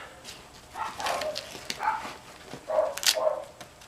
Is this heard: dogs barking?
yes